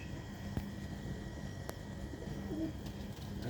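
Pet pigeons cooing softly in a loft, low murmuring coos under a steady hum of background noise, with faint chirps from other birds.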